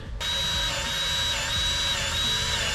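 A power tool whirs steadily with a high whine while grease is pumped into a grease gun, the sound close and continuous after a brief start.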